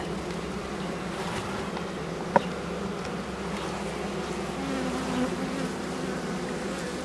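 Honeybees from an open hive colony hum in a dense, steady buzz that continues throughout, with a single faint tap partway through.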